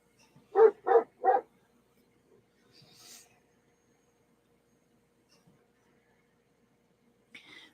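A dog barks three times in quick succession outside, fairly close and loud, followed by long quiet stretches with faint scattered noises and a brief higher sound near the end.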